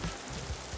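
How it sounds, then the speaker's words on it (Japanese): Steady rain falls on a surf beach during a fishing trip after a heavy downpour, a constant broadband hiss with soft patter, with no talk. "僕今日だからもう雨降っちゃって"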